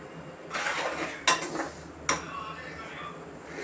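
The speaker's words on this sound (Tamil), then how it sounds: "நல்லா ரொம்ப வதக்கியாச்சு." A utensil scrapes and clinks against a pan as jackfruit is stirred and sautéed in sesame oil. Two sharp metallic knocks stand out over a softer sizzle and rustle, close and fairly quiet.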